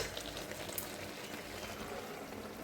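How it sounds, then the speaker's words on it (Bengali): Ash gourd curry with small shrimp simmers in a pan, a soft, steady bubbling hiss of water boiling off, quiet and continuous. "কুমড়োর থেকে এখনও কিন্তু জলটাই শুকাচ্ছে না, প্রায় হয়েই আসছে"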